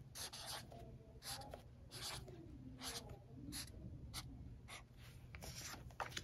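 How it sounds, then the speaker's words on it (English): Marker or pencil writing a short word on a surface for a first-grade spelling lesson, with repeated close scratchy strokes in quick bursts and short pauses, alone without talk. "Let's write it."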